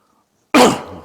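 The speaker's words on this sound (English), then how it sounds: "just got a bit of a cough at the moment." A single sharp, loud cough close to the microphone after a moment of silence, trailing off quickly.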